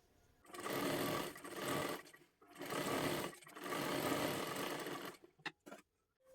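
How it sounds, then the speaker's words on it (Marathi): A sewing machine stitches along the edge of sari fabric being made into a lehenga dress, running in three steady bursts with short pauses, then a few quiet clicks at the end. No voices. "आता इथे एकदम कडेकडेला एक दापटीप टाकून घ्यायची आहे"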